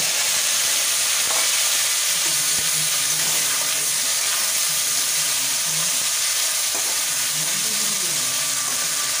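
Tomato dropped into a hot frying pan with green chillies and ginger, giving a steady loud sizzle and hiss with soft stirring scrapes throughout, no one talking.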